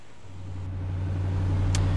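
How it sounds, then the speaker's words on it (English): A 1968 Mercury Park Lane Brougham sedan pulling away, a low engine hum building steadily over two seconds with a faint brief click near the end. "Let's take the car for a brief drive here."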